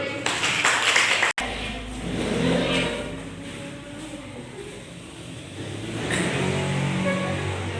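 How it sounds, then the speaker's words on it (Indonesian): A classroom full of people claps together, the applause swelling and then continuing steadily with some chatter mixed in. "Beri tepuk tangan untuk kelompok 1"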